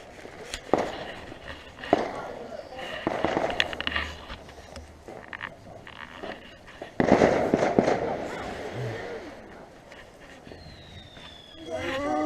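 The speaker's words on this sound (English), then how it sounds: "Their fireworks at the front there." Backyard Bonfire Night fireworks from a budget shop display crack and bang in sharp bursts, with a loud crackling flurry in the middle, while people chat nearby.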